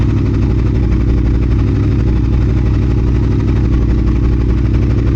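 A 2022 Triumph Speed Twin motorcycle fitted with an X pipe idles steadily up close, its loud, even engine rumble running without a break from start to finish.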